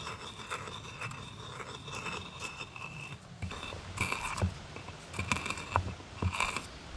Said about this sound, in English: I'm using 2 rocks to grind charcoal to make pine pitch glue.